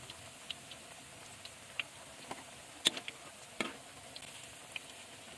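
Thin tempeh chips frying in hot oil, heard as a soft, steady sizzle with faint scattered pops and ticks, fairly quiet and with no one talking.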